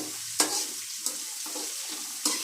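Curry leaves fry in hot ghee for onion ghee rice, giving a steady close hiss and crackle with a few sharp spatters and stirring scrapes, without talk.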